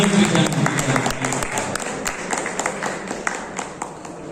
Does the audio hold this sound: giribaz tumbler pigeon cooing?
no